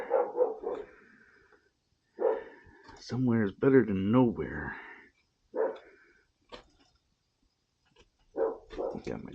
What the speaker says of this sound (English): Got my dog barking in the background.